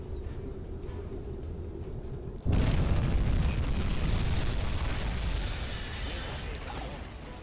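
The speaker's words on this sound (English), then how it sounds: "I'm just going to put a torpedo into that to finish it." A torpedo strikes a ship in the submarine game UBOAT, and after a low rumbling hum a sudden loud boom erupts into a sustained roaring blast that slowly fades.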